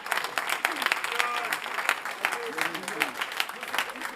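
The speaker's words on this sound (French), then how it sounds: "Je vais les applaudir." An audience at the Hack'n Wow 2023 winners' announcement claps in a steady burst of applause, with voices speaking and calling out over the clapping.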